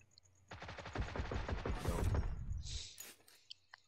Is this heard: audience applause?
no